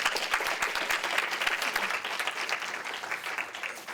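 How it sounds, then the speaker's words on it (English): Enthusiastic applause from a conference audience for Drew Newman at a Healthy Schools Act event, a full, lively burst of clapping that stays strong and steady throughout. "I want to hear applause for Drew because he's fabulous."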